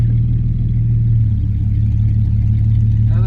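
A tuned 1.4 Opel Corsa engine runs loudly nearby through a stainless steel exhaust with a deep, lumpy rumble, holding a steady choppy idle throughout.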